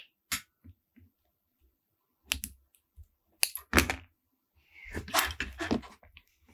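Wire cutters snip through wires while building an FPV freestyle drone and fitting parts into the frame, producing several sharp, close clicks separated by quiet pauses and a short rustling burst.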